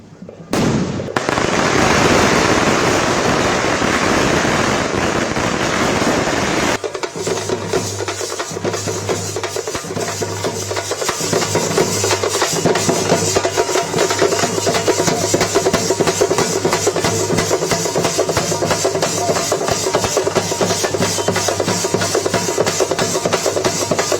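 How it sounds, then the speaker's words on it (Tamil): Firecrackers burst in rapid, loud, continuous crackling chains at an outdoor welcome celebration for a birthday event, with drums beating alongside; an initial heavy roar gives way to dense popping that lasts throughout. "கழக நிர்வாகிகள் மற்றும் தொண்டர்கள் மேளதாளங்கள் முழங்க பட்டாசுகள் வெடித்து உற்சாக வரவேற்பு அளித்தனர்."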